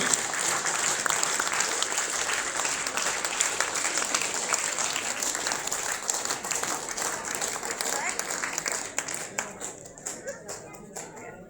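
An audience applauding steadily, dense clapping that holds loud for several seconds, then thins into scattered claps and fades toward the end.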